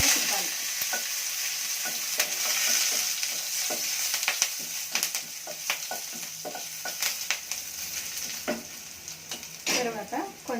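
Dried chilies, garlic and curry leaves fry in oil for kandi pappu rasam, crackling and sizzling as a spoon stirs, with sharp pops and spatters scattered through the steady hiss.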